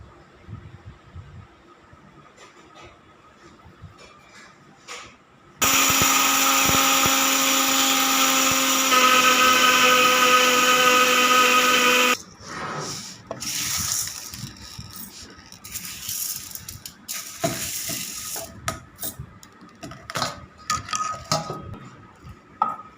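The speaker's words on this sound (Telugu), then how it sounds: "ఈ మినపగుళ్ళు మినపప్పు యాలకులు వీటిని మిక్సీ గిన్నెలో వేసి మిక్సీ పట్టుకున్నాం" Kitchen mixer grinder whirring loudly for about six seconds while grinding black gram and cardamom, a steady high-pitched motor whine that stops abruptly, followed by clattering and handling noises.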